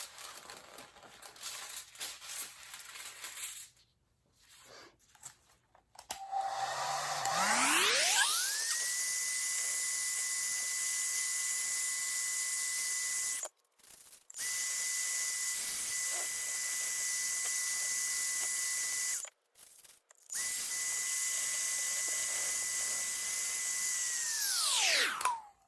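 Hair dryer blowing on coffee filter flowers, spinning up to a steady high whine, cutting out briefly twice and starting again, loud and close with no talk.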